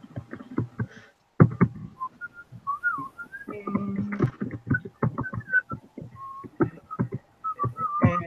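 Someone whistles a tune in short melodic phrases, with pauses between them, heard clearly and close up with little else around it.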